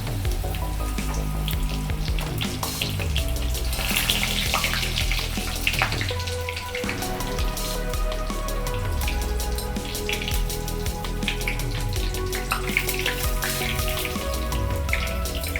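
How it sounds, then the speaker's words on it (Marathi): Spinach pakoras fry in hot oil, a dense, continuous crackling and sizzling that stays loud and close the whole time, with a brief dip midway as more batter goes in. "हे पहा, मी आता तेलामध्ये सोडते।"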